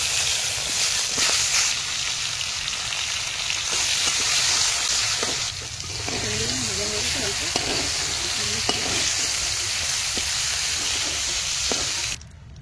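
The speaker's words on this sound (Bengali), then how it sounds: "এই টমেটোগুলো একটু ভেজে নেব।" Tomatoes frying in a pan for Bengali shukto, a loud, dense sizzle with repeated stirring and scraping throughout, cut off abruptly at the end.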